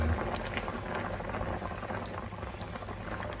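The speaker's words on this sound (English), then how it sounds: "cook for about another 15 minutes and we'll reduce down this sauce, thicken it up a little bit" Chicken casserole sauce simmering and reducing in a pan, a steady low bubbling with soft popping, close and fairly quiet, with no voices.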